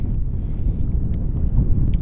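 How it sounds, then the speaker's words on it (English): Strong, gusty wind buffeting the microphone at a lake during ice fishing at Joe's Valley, a continuous loud low rumble with no break. "You'll have to pardon the wind, there's plenty of that."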